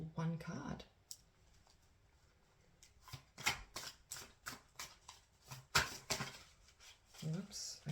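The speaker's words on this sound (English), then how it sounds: "I'm going to start by shuffling the cards," Soft riffling and repeated flicking of tarot cards being shuffled, with a series of crisp taps and slaps at an uneven pace, close and quiet.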